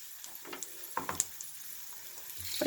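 Dried red chillies crackling in hot oil for tempering, faint scattered pops and brief sizzles with a light clink of stirring, rising slightly at the end.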